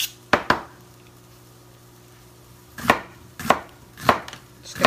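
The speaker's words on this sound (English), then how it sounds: "you could chop your onion in ahead of time, you could chop your garlic ahead of time" Knife chopping onion and garlic on a cutting board, crisp individual thuds: a quick double chop, a pause, then four evenly spaced strokes about half a second apart, close and clear with no talking.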